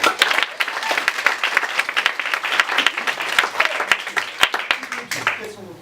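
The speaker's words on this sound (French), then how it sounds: "applaudissez Laurent" Lively audience applause for a volunteer at a comedy mentalist stage show, dense close clapping with sharp individual claps standing out, steady throughout and fading slightly at the very end.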